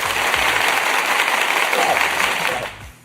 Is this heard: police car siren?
no